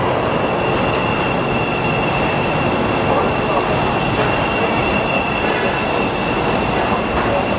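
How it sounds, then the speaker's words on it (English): A Chicago Pink Line train passes close by in a loud, continuous rumble and roar of wheels on rails, with a faint high squeal running throughout. "There goes the pink train."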